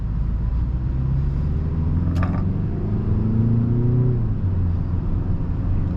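A BMW 330i rolls along slowly with a steady, loud low engine rumble heard from inside the cabin, along with a creak and a mechanical click partway through and a slight rise in engine pitch.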